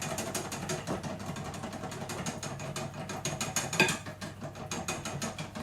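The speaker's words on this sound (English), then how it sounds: "they're starting to separate, so I'm just going to give them another whisk all up" Egg whites for a Yule log are whisked at close range, likely with an electric mixer. It makes a continuous, fast, rattling mechanical whir with rapid repeated ticks and no speech.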